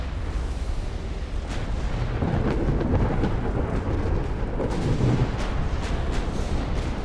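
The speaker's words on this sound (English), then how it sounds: "That's a torpedo detonation on the California." A torpedo detonating against a warship in Ultimate Admiral: Dreadnoughts, a continuous deep rumbling roar of explosion and heavy naval fire rolling on for several seconds.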